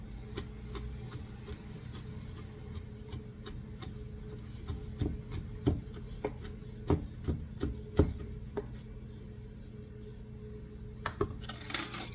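A knife chops rosemary steadily on a cutting board, a series of quick, close taps in an uneven rhythm, with a faint hum underneath.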